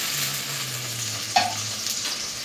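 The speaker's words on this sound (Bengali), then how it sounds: "এখন মশলা দেওয়ার জন্য একটু পানি দিয়ে দিই" Water poured into a pan of fried onions and chillies for a village fish curry: a continuous hiss with a short sharp burst partway through, then the sizzle carries on at moderate level with no talk.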